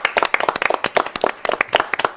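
A television studio audience claps for chef Francisco Sade, a brisk, close burst of many hands applauding steadily throughout with no talking.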